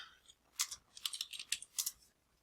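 Fingers type on a computer keyboard, a quiet, close, irregular patter of clicks in short bursts with brief pauses between them, and no voices.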